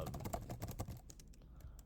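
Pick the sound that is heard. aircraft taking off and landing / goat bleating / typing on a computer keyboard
typing on a computer keyboard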